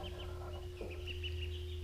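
Ducklings in a brooder under a red heat lamp give a few faint, high chirping peeps over a steady low electrical hum.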